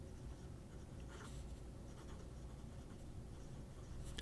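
Hero 1086 fountain pen with a smooth, wet nib writing on paper, giving a faint, steady soft scratching with a few light strokes standing out, close and quiet with no talk.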